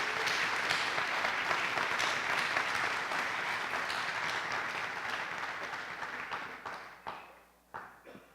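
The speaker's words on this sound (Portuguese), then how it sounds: "dando a você uma forte e calorosa salva de palmas." A warm, sustained round of applause from a congregation-style audience paying homage, thick continuous clapping that gradually thins and fades in its final seconds into a few scattered claps.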